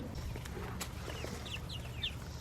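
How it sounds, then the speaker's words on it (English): A chicken, recently attacked by a raccoon, gives faint scattered clucks and short chirps against a steady low background rumble outdoors. "right there is the chicken that got attacked by the raccoon"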